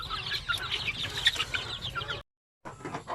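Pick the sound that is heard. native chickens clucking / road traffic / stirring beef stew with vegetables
native chickens clucking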